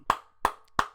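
Three sharp hand claps in quick succession, evenly spaced and close, with nothing else around them.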